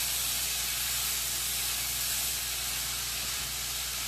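Olive oil and butter in a pan give off a steady, loud hissing sizzle that runs without a break throughout.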